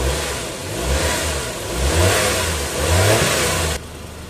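A Suzuki K6A engine revs after an ignition transformer repair, running smoothly with no misfire. Two rising, steady rev swells sit over a low idle rumble, close and loud, before dropping back.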